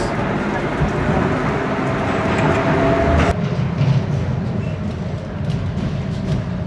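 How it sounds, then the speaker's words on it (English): Budapest metro train riding underground: a steady, loud rumble and rattle of the carriage with a brief screech midway, and voices faintly under the running noise. "A fun little ride in the metro system."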